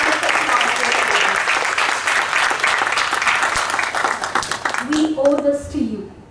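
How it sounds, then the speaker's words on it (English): A school audience at a Class 2 parent orientation breaks into loud, steady applause that holds for several seconds before tapering off as a voice begins to speak. "Can we have a huge round of applause?"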